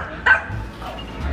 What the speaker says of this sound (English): got them dogs going crazy